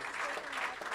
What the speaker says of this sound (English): And I think, yeah, applause.